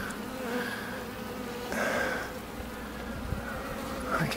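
Honey bees accepting a new queen hum in an open hive on a brood frame, a close, continuous buzzing that swells and fades as individual bees fly near.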